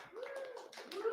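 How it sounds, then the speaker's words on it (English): Event attendees at a solidarity economy talk clap lightly while someone lets out a rising, drawn-out woo, a brief and fairly faint burst of crowd enthusiasm. "That's clapping and wooing that you hear."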